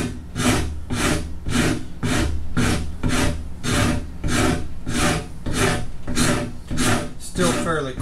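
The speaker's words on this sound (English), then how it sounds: "Number 6 modeler's rasp now that I use quite a lot down in those curved areas." Number 6 modeler's rasp filing a wooden guitar neck in steady back-and-forth strokes, about a dozen even rasping bursts close up, each loud with short pauses between.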